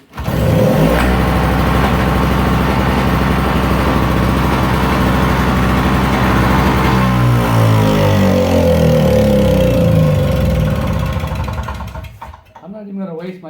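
A snow blower's small engine runs loud and steady right after restarting, a rough buzzing idle close by that holds for about twelve seconds and then cuts out abruptly near the end.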